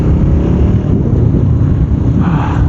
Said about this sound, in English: The wind is a little harsh right now,